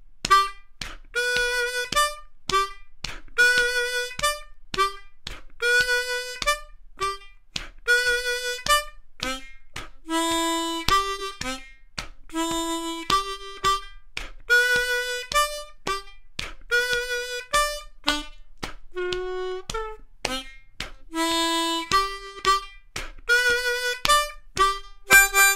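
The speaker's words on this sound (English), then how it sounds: "And that's a rumba blues." A harmonica plays a rumba blues groove, repeating a chugging, syncopated pattern of short breathy chords and notes in a steady rhythm for about 25 seconds, close and alone with no talking.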